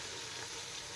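About 300 grams of onions sizzling in a pan as they brown for brinji vegetable rice, a steady, close, hissing fry with no break.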